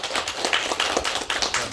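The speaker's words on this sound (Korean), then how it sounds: "박수로 환영합니다." A small audience at an apple-farming education session in Hamyang claps to welcome a guest speaker, giving a steady, moderate patter of hands with no voices over it.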